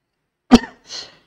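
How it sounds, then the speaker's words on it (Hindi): A single sharp, close cough from a man partway through teaching a maths lesson, followed by a softer, breathy throat sound, with silence before and after. "थोड़ा खांसी मुझे आ जाती है"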